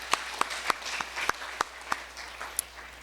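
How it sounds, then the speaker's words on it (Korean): Audience applause at a public deliberation forum, fairly light and sparse, with a few sharper individual claps standing out at regular intervals over a soft background patter. "다시 한번 큰 박수 부탁드립니다"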